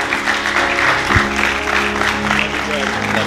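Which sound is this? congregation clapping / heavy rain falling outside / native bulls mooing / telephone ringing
congregation clapping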